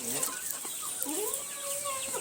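Soft, steady clucking and chirping from white chicks under a constant background hiss, no other sounds standing out.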